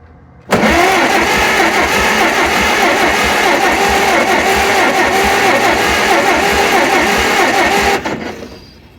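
An old 1972 C10 engine cranking over and catching, then running loudly and steadily up close for several seconds at a rough idle before it shuts off abruptly.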